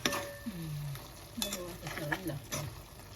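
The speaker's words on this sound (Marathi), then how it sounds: "आता वाटण टाकायचं भाजकं वाटण" Roasted spice paste goes into a hot pan for a bhaji of bharangi flowers and sizzles steadily, with spoon scrapes and stirring clinks, while someone talks over it.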